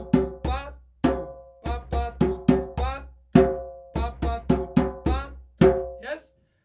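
Conga drum playing a short rhythm of muted tones and ringing open strokes, the pitched open hits standing out; clear, close, struck hits in an uneven repeating pattern with no talk.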